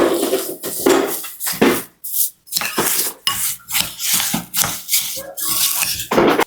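Kadaif and chocolate filling are stirred together in a bowl, giving repeated scraping and rubbing strokes with brief pauses, close and fairly loud, with no talking.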